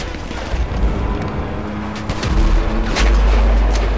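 Gunfire and heavy booms in the video game GTA V, a dense, loud barrage of shots and low explosive thuds filling the whole stretch without talk.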